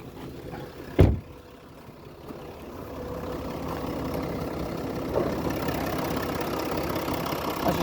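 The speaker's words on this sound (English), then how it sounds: "So this engine might sound noisy to you or tappety." A Land Rover Discovery 3.0 TD V6 diesel from 2017 idles steadily after a sharp click, its low even rumble growing a little louder and continuing without talk.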